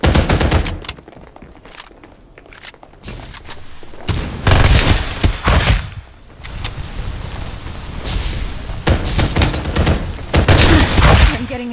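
Sustained gunfire in Farlight 84, dense overlapping automatic bursts and heavy impacts building in loudness, nearly continuous throughout.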